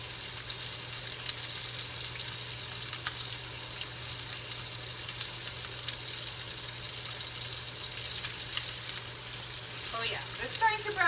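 Tomahawk pork chops sear in a hot pan with a steady, broadband sizzle that holds evenly throughout, with a few brief clinks or stirring touches near the end and no talk over it.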